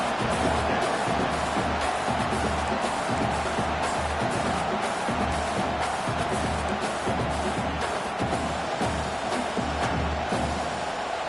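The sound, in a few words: stadium crowd cheering at American football game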